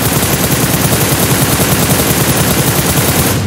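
Rapid automatic gunfire in PUBG Mobile, a loud unbroken stream of shots at a fast, even rate lasting several seconds before cutting off.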